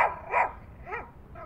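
A small Yorkie dog barks inside a car, giving three or four short, high yips in quick succession with brief gaps between them, fairly close and with no other sound.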